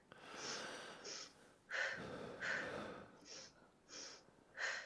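Slow, deliberate breaths in and out repeat in a series of audible puffs and hisses during a breathing exercise, close and fairly quiet.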